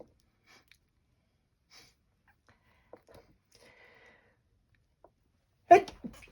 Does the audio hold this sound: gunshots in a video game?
no